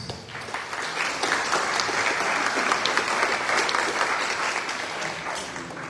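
Sustained audience applause at an academic year inauguration ceremony in Chilca, Peru, as a provincial subprefect is invited up, even, continuous clapping from a sizeable crowd with no talk over it.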